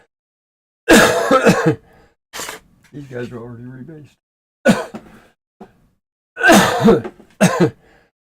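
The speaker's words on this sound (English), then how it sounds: "Man, here goes my cough." A man at a miniature-wargaming hobby desk coughs and clears his throat in a few short, close bursts between bits of his own speech.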